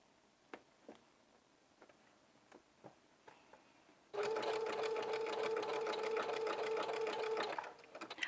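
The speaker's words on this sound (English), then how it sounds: "I'm going to backstitch over that strap for security, like I did on the front." Sewing a jumpsuit strap, a machine starts after several soft clicks and taps, then runs in one loud, steady, continuous burst of backstitching for about three and a half seconds before stopping.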